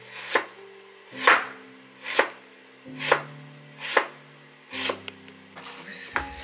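A knife thinly slicing vegetables for a salad on a cutting board, six crisp, evenly spaced cuts about a second apart, close up with no voices.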